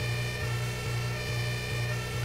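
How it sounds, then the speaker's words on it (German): Ambulance siren in the vehicle-building game Brick Rigs, a steady looping wail repeating roughly every half second over a constant engine drone, loud and continuous with no talking. "Machen wir mal die Sirene an."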